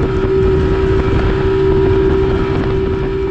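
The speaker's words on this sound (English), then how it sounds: "the whining of two-stroke." A two-stroke boat engine whines steadily near Sanibel Bridge, a loud constant tone running the whole time under rushing wind and water noise.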